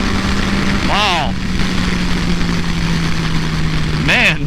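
A 2014 Yamaha FZ-09 motorcycle with 115 horsepower hums steadily while riding, then rises sharply in pitch twice as it accelerates, heard close up under a rider's voice and wind.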